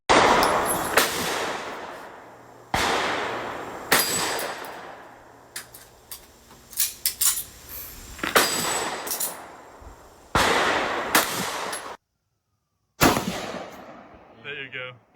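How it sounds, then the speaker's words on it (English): An airsoft gun fires in a series of sharp, loud cracks spread across the clip, each followed by a short fade, with a silent gap near the end before a final shot. "I'll throw up a little clip of me shooting it too"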